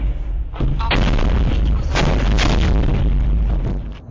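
Heavy booming blasts and rumbling gunfire fill the clip, loud and continuous, with a dense roar of explosions and no voices.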